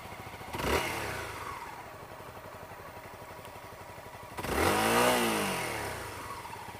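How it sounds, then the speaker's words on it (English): A fuel-injected Honda CBR250R, about 24 horsepower, idles steadily while its single engine is blipped twice, a short rev near the start and a longer, louder rising-and-falling rev later, close and with no talk. "Just to give you an idea of how it sounds, I'll give it a little rev."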